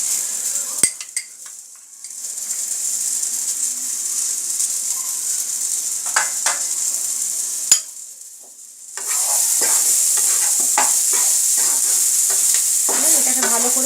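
A spice mixture of chilli powder and salt sizzles steadily as it fries in a pan, with stirring scrapes and a brief pause before the sizzle returns louder and close.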